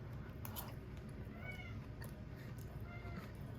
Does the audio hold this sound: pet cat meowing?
yes